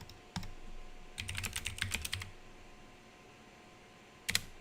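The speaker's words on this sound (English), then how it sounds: "Oh, gotta type." Quick bursts of typing on a computer keyboard in a quiet room, with a single click, then a fast flurry of keystrokes, a pause, and a final short cluster of taps.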